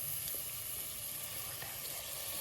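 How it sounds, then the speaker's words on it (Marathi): Suran flower vegetable hitting a hot pan with Malvani spices in a village kitchen, giving a steady, close hiss of frying that holds even throughout. "मी आता ही भाजी टाकते"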